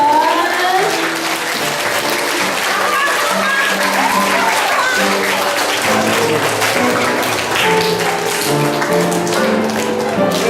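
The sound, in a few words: church congregation applauding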